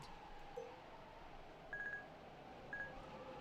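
Faint electronic dialing tones from a satellite phone in the video game Remember 11, a few short beeps over a low background hum.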